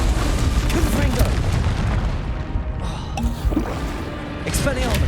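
Confringo blasting spell explosions in Hogwarts Legacy, deep booms in a spell-heavy fight with splashing and crackling bursts, loud and close, with a voice speaking over the action.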